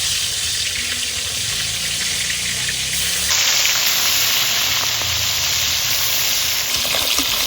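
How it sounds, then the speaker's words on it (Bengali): Fish frying in oil, a loud continuous sizzle that grows brighter and more intense partway through, close and steady with no talk. "তার জন্য মাছটা আমি ভেজে নেবো।"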